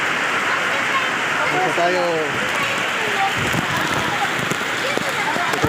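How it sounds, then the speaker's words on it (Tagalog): Heavy typhoon rain pours steadily onto a high covered court roof, a dense continuous hiss filling the space, while people speak briefly over the downpour. "Grabe ulan."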